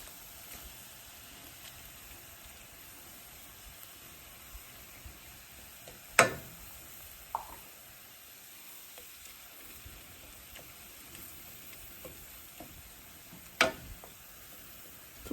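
Shrimp sizzle and fry steadily in a hot pan, a soft continuous crackle with a couple of sharp clinks of a utensil against the pan.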